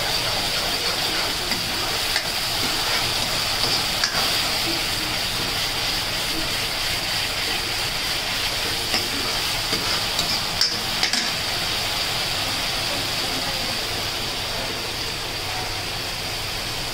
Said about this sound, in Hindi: अच्छे से इनको ब्राउन होने तक भूनेंगे।